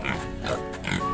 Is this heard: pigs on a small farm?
yes